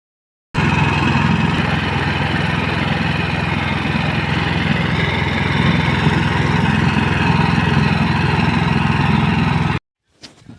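A lawn mower engine drones loudly and steadily at close range for about nine seconds while cutting cricket ground grass, then cuts off abruptly.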